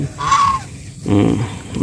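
Pet chickens in a backyard vegetable garden give two loud, close calls: first a drawn-out, nasal squawk, then after a short pause a lower, rougher cluck-like cry.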